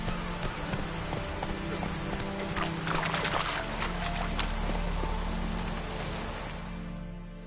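Horse hooves clip-clop at a steady trot in The Witcher, a rhythmic patter of impacts over a low ambient game soundscape and faint background music, continuing throughout.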